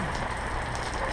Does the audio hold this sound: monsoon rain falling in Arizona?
yes